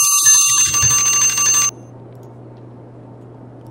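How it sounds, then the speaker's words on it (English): A small alarm clock rings with a loud, rapid metallic bell rattle for about a second and a half, then cuts off abruptly, leaving a low steady hum in a quiet room. "That was my little alarm clock for the 30-minute, guys."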